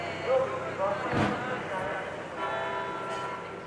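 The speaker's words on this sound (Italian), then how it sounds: "In Piazza dei Signori il rintocco delle campane accompagna l'auto della Protezione Civile" Church bells ringing in Piazza dei Signori, Padua, a deep toll heard briefly under nearby talk and the hum of a Civil Protection car passing through the deserted square.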